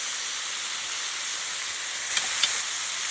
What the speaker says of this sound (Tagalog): Ito na muna pong taba ang uunahin kong lutuin.